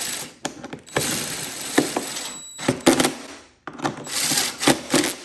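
A screw is driven into the handle of an ICECO JP50 portable refrigerator, giving irregular bursts of close ratcheting clicks and mechanical rattling, with brief pauses between runs.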